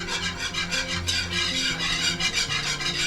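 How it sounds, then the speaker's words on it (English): Brisk, rhythmic whisking of thickened cream in a pot on the stove, close scraping strokes repeating quickly and evenly with no voices. "I'll keep whisking a little bit more"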